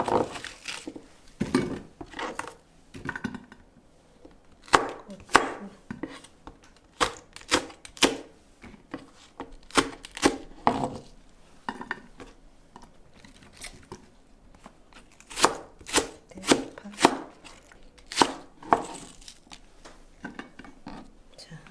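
Green onions being chopped with a knife on a board for a zucchini stew, in uneven bursts of crisp knocks and taps spread through the clip, loud and close over quiet gaps.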